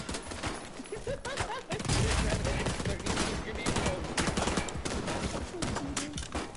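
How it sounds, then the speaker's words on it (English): Heavy 40 millimeter grenade fire in a shooter game, a dense barrage of thumping blasts and rapid gunfire that keeps the player pinned, loud and continuous, with scattered shouting voices. "Is that a 40 millimeter grenade hitting straight?"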